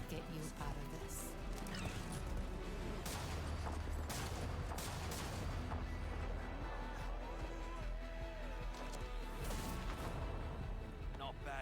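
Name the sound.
gunfire in Apex Legends video game trailer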